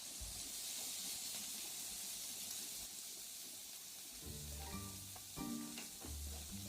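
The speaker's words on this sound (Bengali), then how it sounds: "এরপর আমি বিনসগুলো ভেজে নিচ্ছি।" Beans frying in a pan for egg chow mein give a steady, close hiss and sizzle throughout, with faint tonal sounds joining in the second half.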